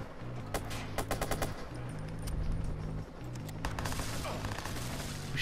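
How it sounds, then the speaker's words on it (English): Rapid bursts of gunfire in the Watch Dogs video game, with clustered automatic shots in the first half and another flurry near the end, set against a steady game soundscape. "Who's shooting at me?"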